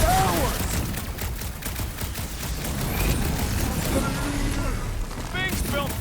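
Sustained gunfire and blasts from a battle in the Guardians of the Galaxy video game form a dense, loud barrage, with characters shouting over the combat.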